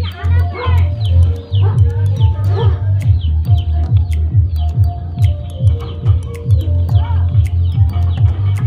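Pigeons in a loft, heard as steady low cooing pulses under busy chirping from other birds, with a person talking throughout.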